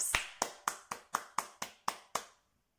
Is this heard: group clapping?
yes